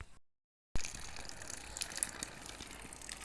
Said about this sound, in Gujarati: ચલો હવે મેથી ધોઈએ છીએ